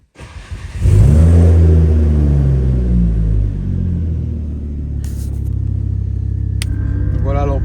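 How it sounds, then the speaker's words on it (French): Ford Focus ST WRC limited edition engine starts and settles into a steady, loud exhaust rumble up close, with low harmonic drone holding throughout and a brief higher whine near the end. "je vais me mettre un coup en route. Je sais pas si on entendra vraiment l'échappement, mais il fait vraiment un beau bruit"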